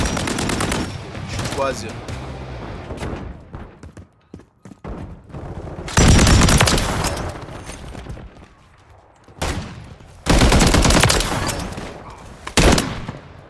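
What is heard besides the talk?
gunfire from video game Call of Duty MW3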